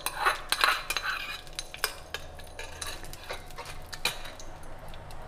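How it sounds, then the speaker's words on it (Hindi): Hot tadka tempering being added to vrat appe batter and stirred in, with a metal spoon clinking and scraping against a bowl in irregular taps, fairly close and quiet, with no talking. "तड़का ऐड करेंगे।"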